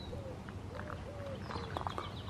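A bird calls softly in short repeated phrases against a faint background hum, with a few brighter chirps toward the end.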